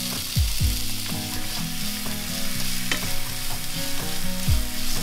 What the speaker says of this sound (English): I'm gonna add my diced onion